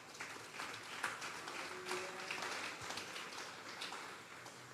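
Steady applause from a church congregation during a Sunday service, a continuous wash of clapping at moderate distance.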